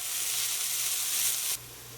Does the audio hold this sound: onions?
yes